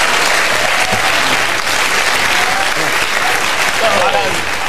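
A studio audience on a British sports panel comedy show applauds and cheers steadily and loudly, a dense continuous wash of clapping with voices mixed in, at an even level from start to finish.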